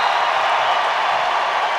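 Fans in a soccer stadium roar steadily as Portland clinches a 2-1 win over Seattle in a women's league match, a dense, sustained wall of crowd noise with cheering and applause blended together.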